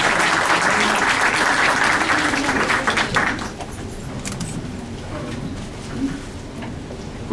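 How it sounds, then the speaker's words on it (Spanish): An audience claps after a talk at a conference on a national procedural code, full applause for about three seconds, then it thins out into scattered claps and room murmur. "Un aplauso, por favor."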